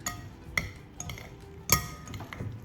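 Vietnamese spring roll filling is stirred in a bowl, with a utensil clinking and scraping against the dish in a few sharp, irregular knocks over a soft mixing rustle, close up and without talk.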